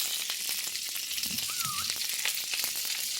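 Firecracker chicken nears the end of frying in a pan, giving a dense, continuous close sizzle with sharp spitting pops throughout and no one speaking.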